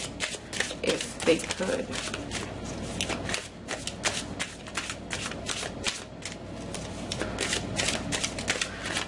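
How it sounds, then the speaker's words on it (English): Tarot cards are shuffled by hand in rapid, repeated riffling bursts throughout, close and fairly loud, with a voice speaking over the shuffling. "as I was like shuffling the cards"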